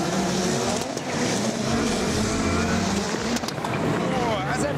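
Four-wheel-drive race cars with launch control accelerate hard in a continuous, loud, dense engine roar that fills the whole span without a break.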